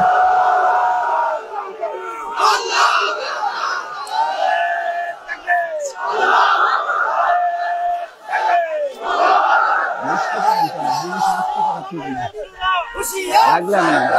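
A crowd at a daytime religious sermon gathering at Tok Shahi Mosque in Kapasia, Gazipur roars the takbir in unison, a series of loud, massed chanted shouts rising and falling in repeated bursts.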